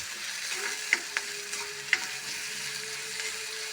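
Onions sizzle gently in a pan with a pinch of salt while a spoon stirs them, a few sharp scrapes clicking over the steady frying hiss, close and alone.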